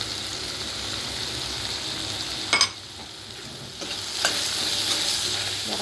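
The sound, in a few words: stir-frying masala spices in a pan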